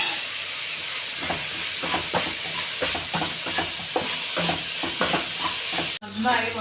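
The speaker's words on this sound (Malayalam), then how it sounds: "എന്നിട്ട് അതിലേക്ക് ആദ്യം സബോള ഇട്ടു, എന്നിട്ട് വെളിച്ചെണ്ണ ഒഴിച്ചു. ഇനി അതൊന്ന് നല്ലോണം വഴറ്റുക കേട്ടോ." Onions sautéing in coconut oil with a little salt for a simple chicken curry: loud, constant hissing sizzle with a regular rhythm of stirring strokes, cutting off abruptly near the end.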